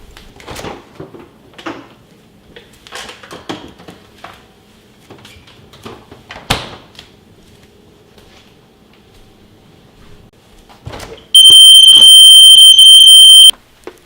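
Portable light-triggered personal alarm siren going off inside a refrigerator: after scattered handling clicks and knocks, a loud, piercing steady electronic wail bursts in near the end and holds for about two seconds, close and alone.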